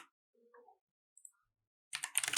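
Quiet, sparse computer keyboard typing while writing Kotlin code, a few soft isolated clicks, then a quick burst of several keystrokes at the end, close and faint.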